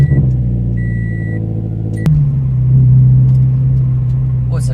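Subaru BRZ fitted with a Berk front pipe cold-starting: a sharp starter catch around two seconds, then the engine settles into a loud, steady, rumbling high idle with a rising throaty swell, close by and alone.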